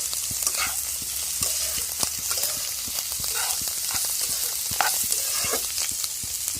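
Egg noodles fry in a pan with ground pepper while being stirred, a steady close sizzle broken by repeated scraping and clicking strokes of the utensil against the pan, with no talking.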